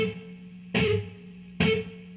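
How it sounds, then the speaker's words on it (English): Two heavily distorted chords from a Gibson Les Paul Goldtop Deluxe electric guitar, drive cranked with a little reverb, strike about a second apart, each ringing over a steady amp hum. "no effects other than the distortion and the reverb"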